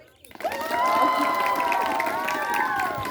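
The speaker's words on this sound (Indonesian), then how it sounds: "Mana tepuk tangannya untuk Bu Uri?" A school audience at SMPN 3 Bakam cheers and claps for a teacher, a loud crowd swell of many voices shouting and whooping over scattered applause.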